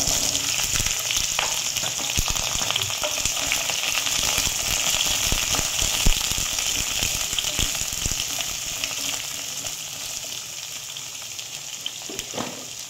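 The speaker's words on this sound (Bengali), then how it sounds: "গরম হয়ে গেছে, এখন তেলটা গরম হয়ে গেছে, এখন আমি পটলগুলোকে ভেজে নেব।" Pointed gourd pieces fry in hot oil with a loud, continuous close sizzle full of crackling spits and pops, tapering slightly toward the end.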